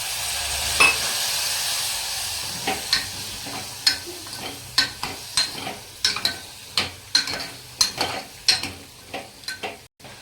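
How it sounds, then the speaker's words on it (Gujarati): Spice masala for a drumstick curry hisses loudly in a pan when water is poured in, then settles into a quieter sizzle broken by a run of sharp spoon clicks and scrapes. "આપણે 2 ચમચી જેટલું પાણી રેડીશું."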